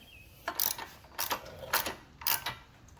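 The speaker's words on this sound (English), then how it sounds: "We're going to use a 7/8 socket to get this spark plug out of here." A 7/8 socket ratchet working loose the spark plug on a Generac power washer engine makes four quick bursts of close, bright metallic clicking separated by short pauses.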